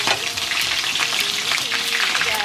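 Snail sizzling and frying in a pan for a king crab and snail vegetable soup, a loud, continuous close crackle with faint stirring scrapes throughout.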